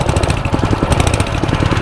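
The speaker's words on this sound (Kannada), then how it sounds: "ಎಕ್ಸಾಸ್ಟ್ ಸೌಂಡ್ ನೋಡ್ರಿ ಹೆಂಗೆ ಬರ್ತೈತಿ." Petrol go-kart engine exhaust at a karting track in Shivamogga, a loud, close, rapid buzzing putter that pulses steadily throughout with no talk.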